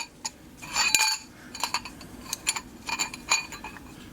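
A Summit ring compressor tool clinks and rattles against metal while piston rings are squeezed, giving light, irregular metallic ticks and rings up close at fairly low volume.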